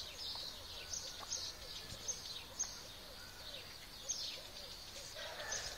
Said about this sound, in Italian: Sente gli uccellini quanto cantano